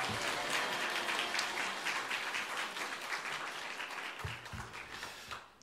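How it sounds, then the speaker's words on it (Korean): A church congregation applauds to welcome a speaker, a dense wash of many hands clapping close and steady throughout, easing slightly toward the end with a few low thumps near the close. "우리 하나님께 영광 돌리면서 우리 지사님 박수로 맞이하겠습니다"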